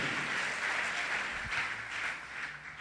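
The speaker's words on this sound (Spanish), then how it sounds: "dame un fuerte aplauso al Señor, hermano" A church congregation applauds, a steady, dense rush of clapping that swells and ebbs slightly over a few seconds, with no voices over it.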